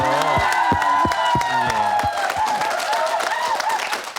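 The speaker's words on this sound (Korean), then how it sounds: "여러분 다시 한번 박수 좀 보내주세요" A TV studio audience at a 1998 Korean broadcast applauds with a dense burst of clapping. Tonal sounds run over it, and the clapping thins out toward the end.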